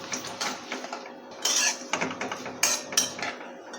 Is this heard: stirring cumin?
yes